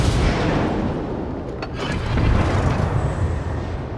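Naval gunfire from enemy ships pounds a battleship during a World of Warships ranked battle, a dense rumbling barrage of deep booms and blasts rolling continuously, loud and heavy.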